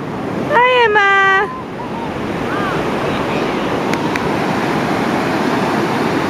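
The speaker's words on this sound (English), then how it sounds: "Oh my god, watch the wave!" Surf roars steadily from nearby Pacific waves at Roads End, Lincoln City, with excited voices cutting in near the start over the constant wash and wind.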